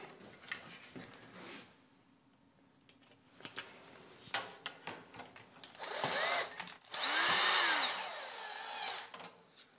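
A power driver runs screws back into the side profile trim of a Fhiaba fridge, several short whirring bursts separated by pauses and small clicks of handling, with a longer, louder run near the end.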